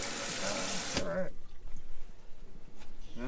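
Water runs from a bathroom tap in an old luxury Barth motorhome, a loud gush that cuts off after a second, leaving quiet drips and a person speaking over the stillness.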